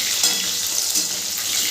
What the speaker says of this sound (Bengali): পনিরগুলো ভাজা হয়ে গেছে। এবার আমি তুলে নেব পনিরগুলোকে।